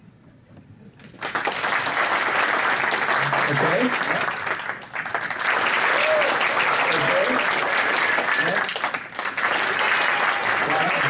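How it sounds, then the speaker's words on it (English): An audience claps loudly to vote for the funniest person, a sustained burst of applause with a short dip midway and a brief spoken word at the start. "I'm gonna hold my hand over and just clap for whoever you think was the funniest"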